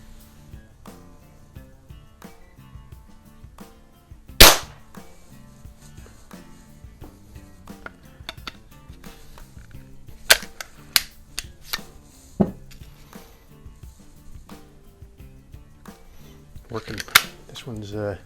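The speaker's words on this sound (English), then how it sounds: "we will start out with the Beemans in the Scorpion. Go to the upper left hand target" A BSA Scorpion .177 pellet pistol fires Beeman pellets at a target, giving one sharp, close snap followed by a few fainter clicks and handling knocks over quiet background noise.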